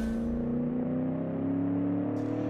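A V8 engine in a car built in Automation and driven in the BeamNG game revs steadily with a droning, rising hum, loud and alone, and a brief hiss near the end.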